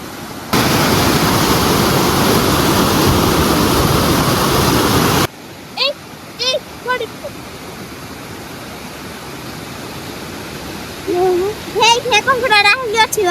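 Floodwater after heavy rain rushes and falls loudly near a bridge as a dense, steady roar for several seconds, then cuts off, leaving quieter ambience with scattered voices and chirpy sounds.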